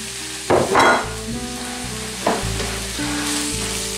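Meat sizzles and crackles steadily in a hot pan, with two louder bursts of spattering as food is stirred, over a low steady hum.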